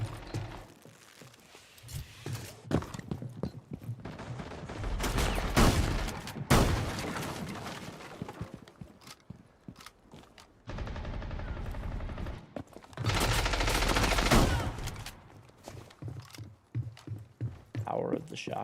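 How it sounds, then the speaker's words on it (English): Shotgun fire in the video game Rainbow Six, several loud broadband blasts and bursts with mechanical clicks and handling noises between them, mixed with a person talking over the action. "Power of the shotgun."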